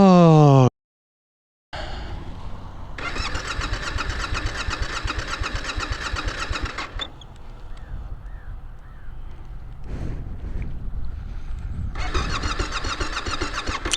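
A Yamaha Tenere 700 adventure motorcycle's engine cranks, drops out briefly, then starts and runs loudly at close range with an uneven, throbbing idle; a crow caws faintly in the background.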